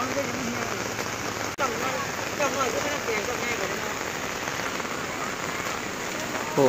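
Heavy rain patters steadily on outdoor market stalls, a constant wash of drops with one sharp knock partway through and no voices.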